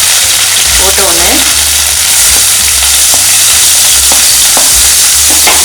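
Ginger, garlic, capsicum, onion and carrot for an egg momo filling fry loudly in a pan, a close, intense sizzle broken by repeated stirring scrapes and clanks.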